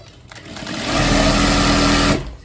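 A sewing machine stitches fabric for an African head wrap in one continuous whirring run of about a second and a half, loud and close, starting and stopping cleanly.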